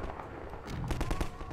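Rapid shotgun blasts in the Half-Life 2 video game, a quick cluster of sharp bursts at moderate loudness with no talking over them.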